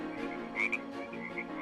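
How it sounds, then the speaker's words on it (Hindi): Frogs croak from a pond behind a house at night, a steady chorus of raspy calls with one louder, nearer croak standing out, and no voices. "मुझे काफी देर से मेंढकों की आवाज आ रही है जी"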